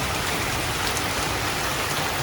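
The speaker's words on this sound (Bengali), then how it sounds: "কি বৃষ্টি, বাপ রে বাপ।" Heavy rain pours down in a dense, steady hiss of drops on surfaces, loud and close, with no pauses and no voices.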